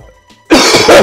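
A person coughs and clears the throat once, a sudden loud harsh burst close to the microphone after a moment of near silence, lasting about half a second.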